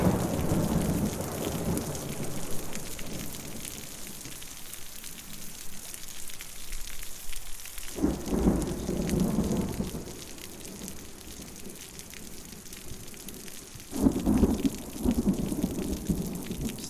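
Steady rain drums on a trail shelter roof along the Appalachian Trail in central Virginia, with low thunder rumbling up twice in distinct swells over the constant downpour; no voices.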